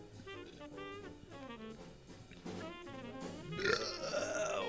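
A long, drawn-out burp performed on request, rumbling continuously for several seconds and growing louder and rougher toward the end over a steady background.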